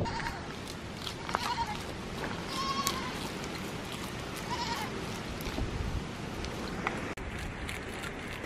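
Goats bleat several times at close to middle distance, including a young kid among them, over a steady outdoor background hiss with soft human voices in the mix.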